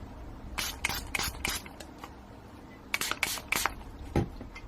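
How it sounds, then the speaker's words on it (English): A spray bottle is pumped over a poured resin embed in a craft project, a few short hissing bursts in two quick clusters, close and soft, with a light knock near the end. "Give that a spray."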